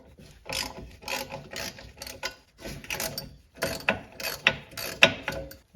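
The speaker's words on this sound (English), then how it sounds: "I'm going to go ahead and loosen the bolts for the cylinder" A hand wrench ratchets and clicks in repeated short bursts while loosening the wheel cylinder bolts on a Plymouth Gran Fury brake job, with close, uneven mechanical clatter and brief pauses between strokes.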